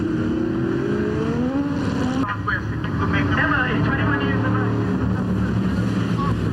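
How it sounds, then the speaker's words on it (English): Formula 5000 race cars with 5-litre engines producing over 500 horsepower roar past on a New Zealand circuit, a loud sustained engine drone shifting in pitch as they pass, with commentary talking over it. "they sound like real race cars, don't they"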